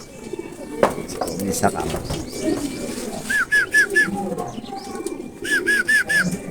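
Racing pigeons coo in short repeated bursts at a loft, two clusters of soft rhythmic calls standing out over background chatter and someone talking.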